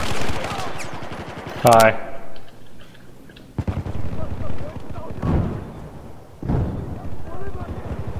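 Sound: gunfire and explosions in the video game Battlefield 4

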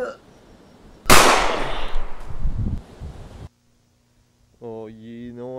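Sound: gunshot from a video game

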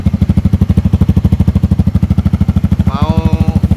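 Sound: motorcycle racing exhaust revving

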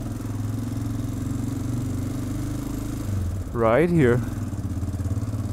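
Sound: clacking engine of a broken Honda motorcycle in city streets

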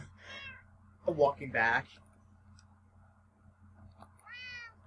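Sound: cat meowing in the video game Minecraft

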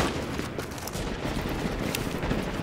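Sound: AK rifle gunfire in a video game

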